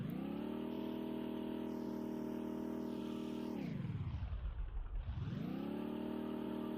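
A car driven in the VRChat game, a steady engine drone that holds even, then dips low as if slowing or shifting and climbs back up, heard up close with no talk over it.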